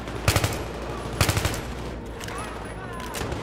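Gunfire in the video game Battlefield 3: two short bursts of rapid automatic shots about a second apart, fairly loud over a steady bed of game ambience, with a voice briefly speaking later.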